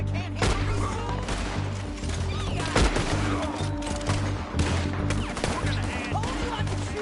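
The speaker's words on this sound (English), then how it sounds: "Told you I could shoot a gun" Gunfire in a PS4 video game, bursts of rapid shots and sharp impacts over a dense, loud in-game soundscape with music and background noise throughout.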